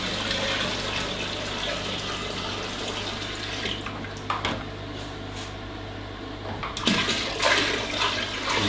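Water is poured into a machine kettle with a mixer blade for cleaning, a steady close splashing and trickling under a low hum, with a few sharper clunks and splashes toward the end.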